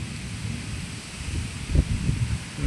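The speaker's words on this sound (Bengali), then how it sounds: "মেঘ করে হাওয়া হচ্ছে বিশাল" Strong wind under a cloudy sky buffets the microphone in uneven low gusts, swelling louder toward the end with rustling bursts.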